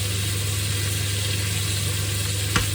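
Kitchen cooker hood extractor fans run in a steady, loud drone with a low constant hum, while a steak sizzles in a pan underneath and one brief knock sounds near the end.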